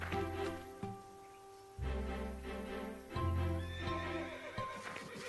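Horses in a stable whinny and neigh loudly several times, with hooves clip-clopping on the ground between the calls, close and clear.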